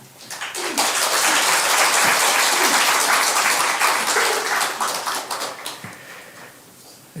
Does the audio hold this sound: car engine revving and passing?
no